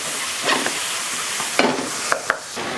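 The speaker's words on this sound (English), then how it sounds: "now we're going to add in some of this onion" Onion fries in a pan for a Thai shrimp curry, a steady sizzle broken by a few stirring scrapes and bursts of spattering.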